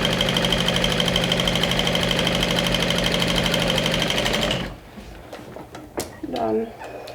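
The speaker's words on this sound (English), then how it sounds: "I'm sewing with an 1/8 of an inch seam allowance" Sewing machine stitching a fabric pouch seam with a narrow eighth-inch allowance, a steady close mechanical whir running for several seconds before stopping, followed by brief quieter handling sounds and a short voice.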